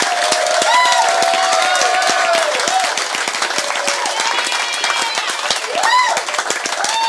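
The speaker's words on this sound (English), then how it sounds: "He hears you applauding." Audience applauding at a live cabaret show at the Ice Palace, a steady full round of clapping with some cheering, while a voice speaks over it.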